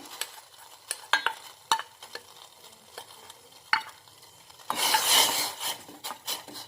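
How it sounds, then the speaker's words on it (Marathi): Dry sago pearls are stirred into a small pot of boiling water, giving sparse spoon scrapes and taps on the pan, then a louder burst of bubbling and stirring near the end; no talking. "पाणी आपलं हे उकळायला लागलेलं आहे आणि आपण यामध्ये सगळा साबुदाणा हा घालायचा आहे"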